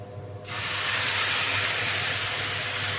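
Sudden loud hiss and sizzle as milk hits grated coconut sautéing in a hot pan for kopra paak, bursting in after a quiet moment and holding steady with no talking.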